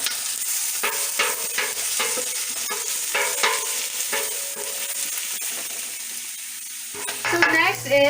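Garlic, ginger and Thai chili frying in a pan for chicken curry, a loud continuous sizzle with rhythmic scraping strokes of a stirring utensil, ending in a burst of clatter.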